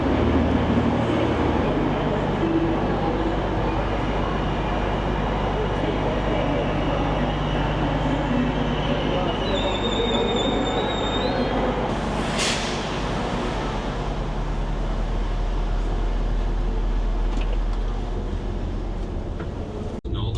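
A train to Blackpool North rumbles steadily into a station, with a brief metallic brake squeal partway through and a constant low mechanical drone throughout.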